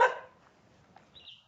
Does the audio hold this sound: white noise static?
no